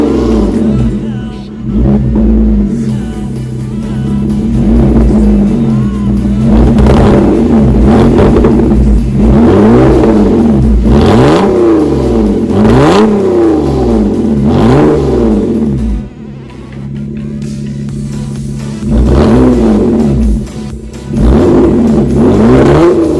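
A Lotus Evora with a new titanium exhaust revs hard and close, its engine surging and falling in repeated throttle blips over a steady idle rumble.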